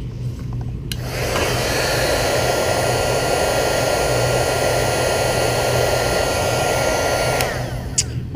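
Heat gun shrinking tubing over a connector on a magnet mount wiring setup: a loud, steady blowing roar that starts after a click near the start and runs without a break, cutting off near the end.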